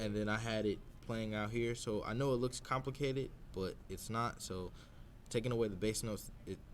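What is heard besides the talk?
No everyday noise stands out behind the speech.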